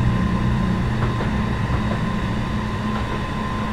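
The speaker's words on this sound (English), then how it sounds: "We're currently running Edinburgh Glasgow on Train Simulator 2015 and driving a Class 170 DMU." A Class 170 DMU runs the Edinburgh to Glasgow route in the Train Simulator 2015 video game, giving off a steady, even droning rumble with a constant hiss and no talk.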